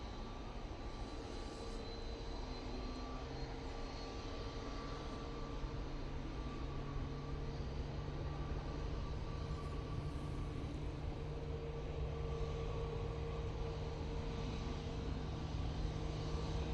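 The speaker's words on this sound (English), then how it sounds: "a very quiet arrival there from the Qatar. Again, using their 777-300ER" A Qatar Airways Boeing 777-300ER arriving at Manchester Airport gives a steady, faint jet roar that holds evenly throughout, distant and without talk.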